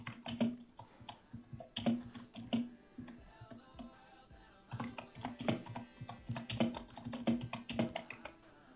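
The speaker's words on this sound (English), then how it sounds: "Who's ever typing, gotta mute your mic when you type" Typing on a computer keyboard picked up by an open microphone during a live call, a steady stream of soft, close key clicks with brief pauses, faint and unaccompanied by talking.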